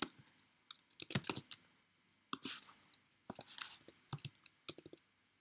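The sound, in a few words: pressing buttons on a calculator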